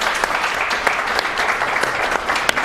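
Applause for a Chicago-style pizza at a Punjabi-hosted pizzeria on Virginia Street in Reno: steady, dense clapping from a small group, close and loud throughout, with no talk over it.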